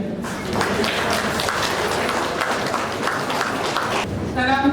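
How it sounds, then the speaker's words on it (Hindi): Audience applause at a farewell party for a retiring colleague, dense steady clapping throughout with voices mixed in, fading near the end. "और ताली बजा लेंगे।"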